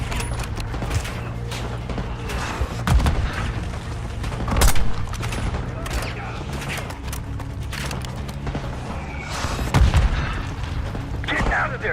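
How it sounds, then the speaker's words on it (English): Mortar explosions and gunfire in a Call of Duty: Black Ops 6 campaign battle: repeated heavy booms and thuds over continuous rumbling combat noise, with a few louder blasts standing out. "Focus on the mortars."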